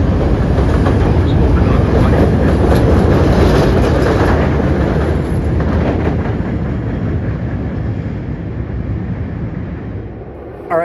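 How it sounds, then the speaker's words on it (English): Chicago L Forest Park train departing Western station, loud rolling rumble and clickety-clack of wheels on rail, close at first and slowly fading as it pulls away. "But first we gotta let this regular boring Forest Park train leave."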